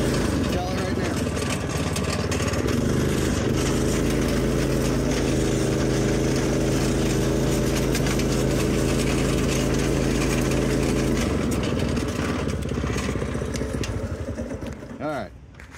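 A motorcycle engine with a slipping clutch runs steadily and loud for about eleven seconds, a droning mid-pitched hum with wavering revs, then drops away near the end; a voice talks over it.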